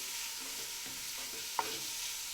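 Diced onion sautéing in a pan for a vegan corn chowder, faint soft sizzling with a few quiet scrapes of a spoon stirring and one sharp clink of the utensil against the pan partway through.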